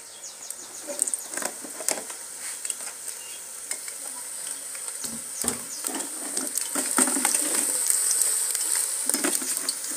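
Cooking oil poured into a wok pan over a jiko in an African village kitchen, producing a soft, steady sizzle with light crackles and pops that grow slightly louder as it goes on.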